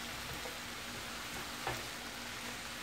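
Bok choy sautés in a pan with a soft, steady sizzle and crackle, fairly quiet and close, with a brief stirring scrape partway through and no voices.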